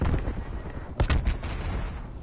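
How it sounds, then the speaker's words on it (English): Video game gunfire cracks out in a rapid cluster of sharp, loud shots, with a dense burst near the middle over continuous lower battle noise. "Who's shooting me?"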